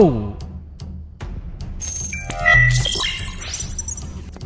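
A bright, ringing chime with several high pinging tones rises over a dubbed Thai narration of a Chinese manhwa, signalling a system notification; the tones layer and sweep upward amid continuous spoken narration.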